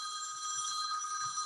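An office telephone bell rings continuously in a town hall, a steady bright trilling tone held throughout at moderate level, with no talk over it.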